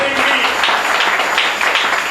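A church congregation applauding for Jesus: a dense, even wash of many hands clapping at once, loud and sustained with no pause from start to finish.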